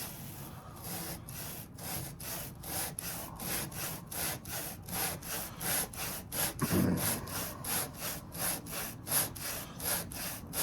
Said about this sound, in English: now we can start going through the lapping process till it smooths out again